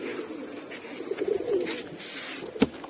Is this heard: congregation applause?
no